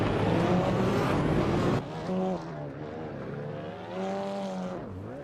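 Engine of a 2015 Fiat Tipo Competizione race car droning loud and close, its pitch sweeping up and down through gear changes and throttle lifts on a tight technical circuit, with other cars faintly behind.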